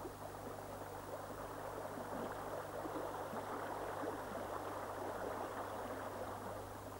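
Water flowing steadily along a drainage ditch cut into boulder clay at the Pine Point mine site, a faint, even rushing wash that holds unchanged throughout with a low steady hum beneath, no voices.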